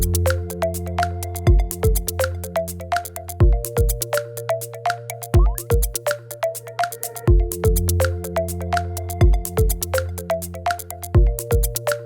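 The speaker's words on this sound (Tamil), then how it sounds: "இப்போ வந்து OnePlus Nord C2 Lite 5G on பண்ணலாம்." A OnePlus Nord CE 2 Lite 5G phone powering on plays a bright, tonal startup melody with repeating chime-like notes, steady and clear for about twelve seconds, with no voices.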